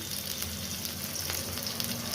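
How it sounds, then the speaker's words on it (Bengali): Potatoes fry gently in a pan with onions for aloo curry, a soft, even sizzle at low level with no voices. "একটু ভাজা ভাজা হোক, বলে আমি আলুগুলো দিয়ে দিচ্ছি।"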